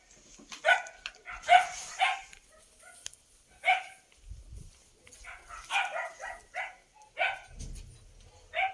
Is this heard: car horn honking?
no